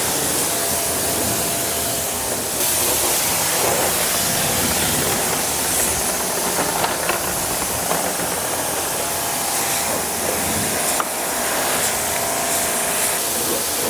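A hose spray rinses a drift car during detailing, a loud, steady, broadband hiss running continuously and close with no pauses and no voices heard.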